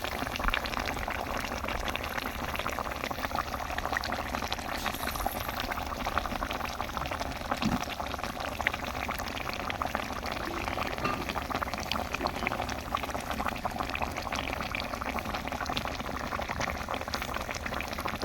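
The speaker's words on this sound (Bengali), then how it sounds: "তো মাছের বলকটা উঠে গেছে" Chanda fish curry with mustard flowers bubbles at a steady rolling boil in a pan, a continuous soft simmering hiss with no voices over it.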